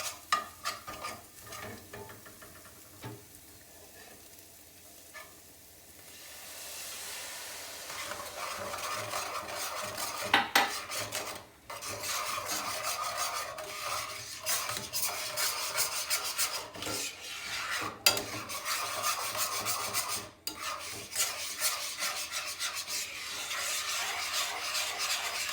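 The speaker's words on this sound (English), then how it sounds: "gonna now deglaze this, scraping up all that flour and nice bits at the bottom" A pan of lamb chop drippings deglazed with wine while flour and browned bits are scraped loose, starting with a quieter sizzle, then loud rasping scrapes and stirring over steady frying, close and continuous, no voices.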